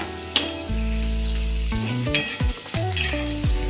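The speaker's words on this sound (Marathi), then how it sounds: "चांगले फ्राय करून घ्यायचे." Ground masala sizzles and fries in a pan for paneer butter masala, a loud steady crackle broken by scraping stirs and clinks of a spoon against the pot.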